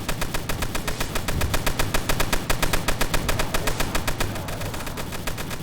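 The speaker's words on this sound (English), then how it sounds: "time to send out the boss melting weapon. Phaser" A Phaser weapon in Tower Battles fires in a fast, evenly spaced stream of sharp electronic pulses. It builds to a loud rattling barrage, then thins toward the end, with no talking over it.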